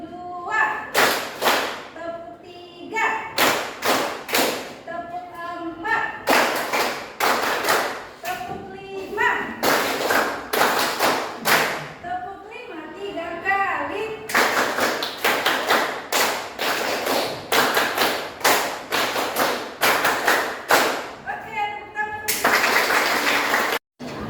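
Students in a classroom clap in counted rhythm, sharp bursts of group claps in grouped patterns separated by brief pauses, with voices counting and calling along between and under the claps.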